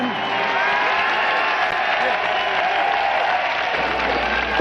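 A packed election headquarters ballroom erupts into sustained cheering and applause as Senator Kennedy enters, a dense, loud and unbroken roar of the crowd with voices shouting throughout.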